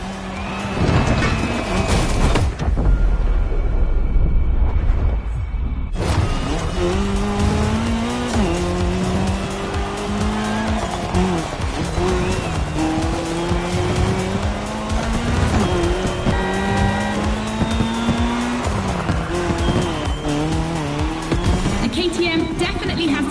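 Race car engine revving and shifting through gears with tires squealing, from the racing video game The Crew, continuous and loud throughout, with a brief gap early on where the engine drops out before roaring back.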